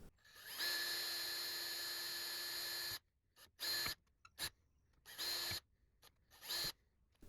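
A high-pitched Dremel rotary tool whines steadily for a few seconds cutting plastic car trim, then cuts in short repeated bursts, close up with quiet gaps between.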